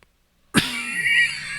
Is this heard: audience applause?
no